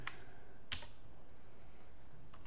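A password is tapped out on a computer keyboard during Windows 11 setup, a few quiet scattered key clicks with long gaps between them over a soft background hum.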